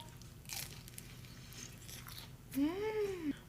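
A Panda Express chicken egg roll gives a few brittle, crunchy bites close to the mic, followed by a short voiced, hum-like sound over a quiet room background.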